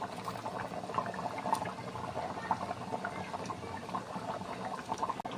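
A taro curry with fried fish bubbles steadily in a pan on the stove, a continuous close boiling with small pops and gurgles and no pauses.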